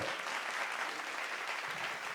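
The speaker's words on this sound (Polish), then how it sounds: "wielkie brawa" Applause from the audience at a Warsaw mentoring interview event, a steady, even patter of many hands clapping at moderate distance, continuous with no voices over it.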